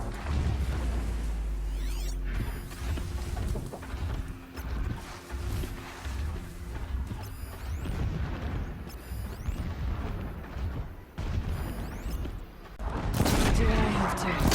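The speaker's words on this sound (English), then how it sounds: "Explosions in the distance." Distant explosions boom and rumble through a Horizon Zero Dawn game scene, with a dense, steady wash of low battle noise and a louder burst near the end.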